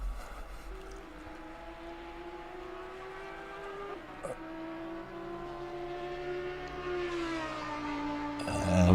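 A GT4 race car engine in the Assetto Corsa Competizione racing game at Imola drones and whines, its pitch climbing steadily before a louder burst at the end.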